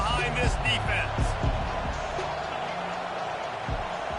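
Stadium crowd at a Sooners versus Sun Devils college football game roars steadily behind the defense on a big third down, a dense, sustained wash of cheering with a few sharper shouts and claps rising out of it.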